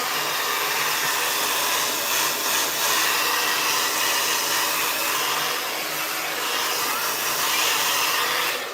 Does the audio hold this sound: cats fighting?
no